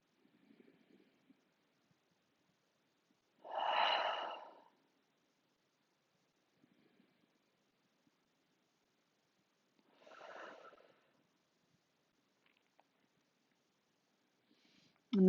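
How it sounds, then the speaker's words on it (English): Two slow, deep breaths pass through the nose during a quiet yoga rest pose. Each is a soft, close, breathy rush lasting about a second, set several seconds apart against near silence. "for 3 breaths, inhale through your nose. Exhale, sigh your breath away."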